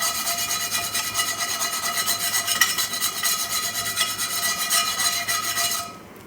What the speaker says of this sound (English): I'm going to scrape out all those pieces